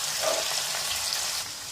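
Boiled mutton browning in masala for yakhni pulao, a steady close hiss of frying with faint stirring, continuous and fairly even before easing slightly at the end.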